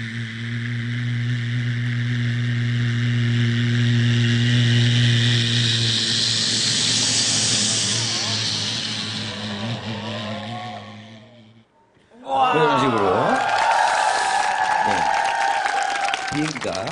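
A human voice imitates a car driving past on a rain-soaked road, with water splashing up. It builds as a long, steady hissing whoosh, cuts off abruptly, then returns as a wavering spray. The effect is loud and close.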